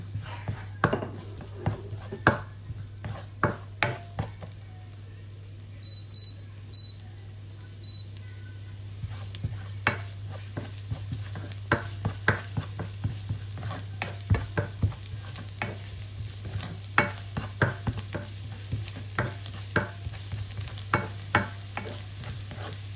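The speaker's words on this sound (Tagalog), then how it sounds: "ang next natin gagawin ay ating igigisa ang ating bawang" Garlic sautés softly in a pan for pancit bihon while a utensil stirs and scrapes with frequent clicks, a low steady hum underneath and a few faint beeps.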